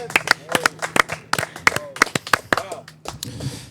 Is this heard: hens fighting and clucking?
no